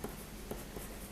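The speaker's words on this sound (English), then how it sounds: "So I'll just write that down." Pen or pencil scratching on paper while notes on crochet stitches are written by hand. The sound is faint and close, with soft continuous strokes and a few small taps.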